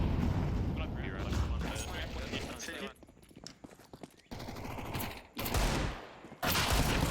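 Gunfire in a Counter-Strike 2 match, with dense bursts of shots clattering through most of the clip, broken by short quieter gaps, and voices talking over the action.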